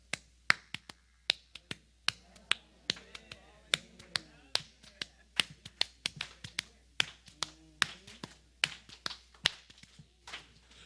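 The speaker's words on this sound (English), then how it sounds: "Grandma Frankie would clap, and she would clap like this." Sharp hand claps in a steady rhythmic pattern, repeated dozens of times, loud and close, a church-service clapping beat with faint background sounds between the strikes.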